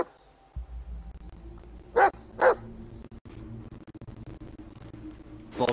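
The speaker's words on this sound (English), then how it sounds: "Yeah, good dog." A dog outdoors gives two sharp barks close together and one more at the end, standing out over rustling movement and a low background rumble.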